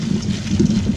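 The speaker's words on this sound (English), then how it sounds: "I'm getting ready to take them over to the sink. And I'm going to pour this water off." Soaking water is poured off collard greens into a kitchen sink, a brief close splashing pour with a low watery gurgle.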